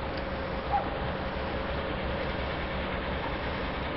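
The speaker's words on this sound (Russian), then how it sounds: "Вот поезд стоит на втором пункте, на котором приехал." A train standing at the railway station in Kerch, heard from a bridge above: a low, steady rumble and hum at a distance, fairly faint, with no voices.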